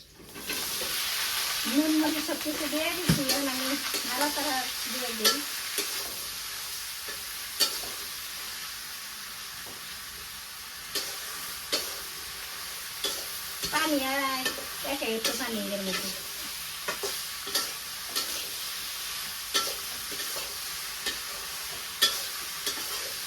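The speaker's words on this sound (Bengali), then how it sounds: "টাইমে আমি দুন্দুল ভাজি করুমু তো কড়াইতে তেল দে দেয় কড়াই তাপ হয়ে গেছে গা" Sliced sponge gourd fries in oil in a hot wok (kadai), giving a continuous sizzle and sharp, regular spatula scrapes and clinks as it is stirred. A voice talks briefly twice over the cooking.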